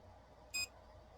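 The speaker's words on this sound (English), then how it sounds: "So if you turn the sound off, it doesn't beep anymore." A Creality CR-6 SE 3D printer running community firmware gives one short, clear electronic beep against a quiet background hum.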